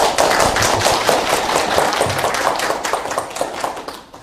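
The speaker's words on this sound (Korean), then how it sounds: "박수로 환영해 주시기 바랍니다" An audience at a lecture hall event claps to welcome the lecturer, a full, steady round of applause with distinct individual claps that gradually tapers off toward the end.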